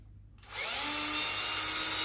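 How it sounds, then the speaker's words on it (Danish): A power drill bores a hole in a paper tube for a foam-ball cannon, starting after a brief quiet moment and then whirring steadily and loudly up close until the end. "Og så borer vi et hul."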